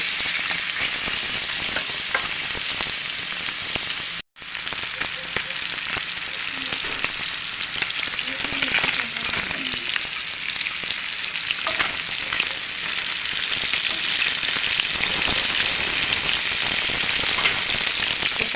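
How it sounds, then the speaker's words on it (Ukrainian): Chopped meat frying in a skillet with onion until crisp for a pea soup; a dense, constant close sizzle with faint crackling throughout and one brief break, no talking. "Піджаримо гарненько, щоб було таке, як шкварки."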